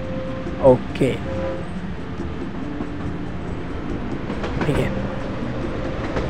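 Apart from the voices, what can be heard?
train running in the video game Tycoon Empire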